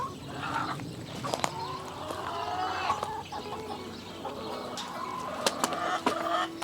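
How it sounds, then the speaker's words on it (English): Backyard hens on a 42-acre rural homestead cluck and chatter in a busy, overlapping flock, with sharp close calls and steady background murmuring throughout, no talk. "All right, chickens are going to get a treat here."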